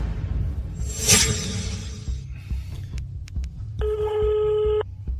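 A steady electronic busy-line telephone tone sounds for about a second, following a few sharp clicks over low background hum.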